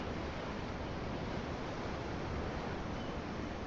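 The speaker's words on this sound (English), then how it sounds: "I'm looking at the ocean. The ocean? Yeah. The waves." Ocean waves in the video game Tales of Arise, a steady, broad wash of surf noise with no distinct breaks, heard alone.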